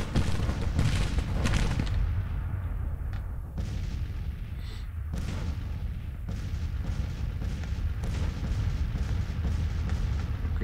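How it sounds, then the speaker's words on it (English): Massed Mississippi rifle volleys in a Grand Tactician Civil War battle at Frederick, heard as a dense, continuous roll of distant musket fire and booms at a steady loud level with no voices. "Oh, the Mississippi rifles have opened up."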